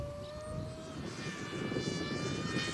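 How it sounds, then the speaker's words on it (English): An FF-Demon RC jet plane, a monster-jet model on 4S power, flying at a test flight, giving a continuous whooshing engine roar with high whining tones that swell slightly as it passes. "this is the plane, this one has the monster jet"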